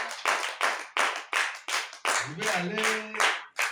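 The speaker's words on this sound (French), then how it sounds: "Applaudissez pour le Seigneur." A church congregation at a Bible class claps hands in a fast, loud, steady rhythm of about a dozen sharp claps, with a voice briefly speaking near the end.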